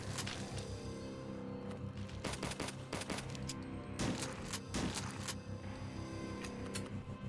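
A shotgun fires repeatedly at enemies in the video game HROT. Several loud, booming blasts come in irregular bursts over continuous game noise.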